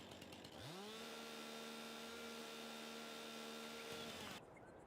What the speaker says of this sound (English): I forgot I have two different chainsaws.